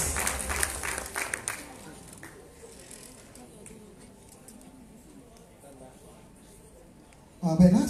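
Applause for the Miss and Mr. Petite Sarawak 2019 pageant semifinalists rises in a brief burst of clapping, then fades into a quiet hall, and a voice comes in near the end.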